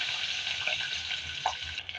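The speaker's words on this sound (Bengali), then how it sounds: "প্রথমে আমি ডিমগুলো ভেজে নেব।" Eggs fry in hot oil in a pan, giving a steady bright sizzle throughout at close range, with a faint pop partway through and no voices.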